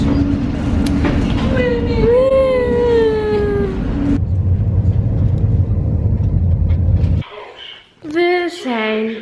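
Steady rumble and rolling noise from inside a moving train in France fills the clip, with people talking over it, before the noise drops away and voices continue.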